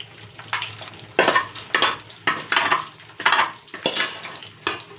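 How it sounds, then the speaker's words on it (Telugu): Dried chicken pieces go back into hot oil, sizzling and frying in surges as they are stirred, with scraping of a spoon against the pan every second or so, close and clear with no talk. "ఇప్పుడు ఈ డ్రైయింగ్ చికెన్ని మళ్ళీ ఈ ఆయిల్లో మనం వేసుకోవాలి"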